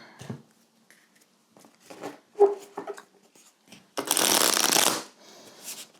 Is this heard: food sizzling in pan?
no